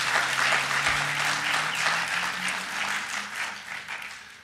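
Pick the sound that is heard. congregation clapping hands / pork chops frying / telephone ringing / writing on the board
congregation clapping hands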